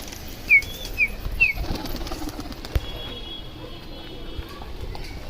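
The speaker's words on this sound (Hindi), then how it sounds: "कबूतर उड़ चुके हैं" Pigeons take off in a burst of flapping wings, a few sharp chirps near the start, then a steady outdoor background with faint rustling.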